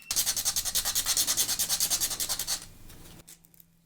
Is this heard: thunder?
no